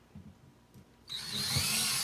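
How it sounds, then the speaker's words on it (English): A power drill bores into a wall to find a wooden stud while a shelf is being mounted. After about a second of quiet room rumble, it starts suddenly into a loud, steady, high whine that runs without a break to the end. "I'm going to go ahead and drill where those marks are to make sure that I do in fact hit wood."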